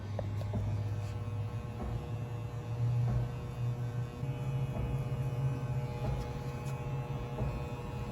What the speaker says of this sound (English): we're going to close the clippers all the way and go in with the corner of the blade to start removing that line